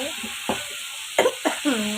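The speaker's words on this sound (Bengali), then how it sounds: "পেঁয়াজ রসুনের পেস্টটা আমি দিয়ে ভালো করে নেড়ে নিই" A spoon scrapes and stirs koi fish with onion-garlic paste sizzling in a pan over high flame, with a few distinct strokes over a steady background hiss.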